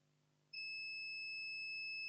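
A multimeter gives a steady, continuous continuity beep while probing the battery connector pins of an Itel A04 phone's circuit board, cutting in abruptly after a faint hiss and holding loud and unbroken.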